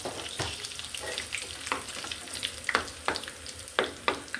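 Cumin seeds sizzle and crackle in hot oil, tempering lentils, with a steady frying hiss broken by sharp pops and scrapes of stirring.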